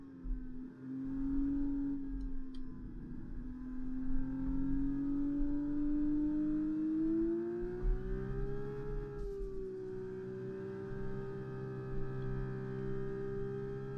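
A Formula 1 race car engine from the F1 2024 video game, a steady high whining drone that climbs slowly in pitch as the car accelerates on track, continuous and alone without talk.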